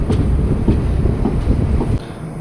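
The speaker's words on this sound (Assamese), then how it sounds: "আমি ট্ৰেইনত উঠিলোঁ" A night train from Kolkata to Guwahati rolls through West Bengal, a steady heavy rumble broken by evenly spaced clacks of wheels over rail joints, close and continuous until the roar suddenly drops near the end.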